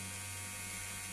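An electric shaver buzzes steadily against a beard, a close, continuous high hum with no pauses and no speech.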